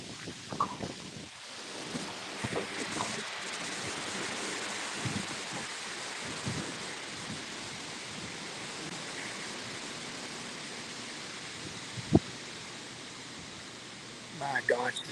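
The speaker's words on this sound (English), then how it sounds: "my gosh, this wind is" Steady wind blows outdoors beside a garden and flower beds, a broad, constant rushing roar with occasional gusts, under a person talking.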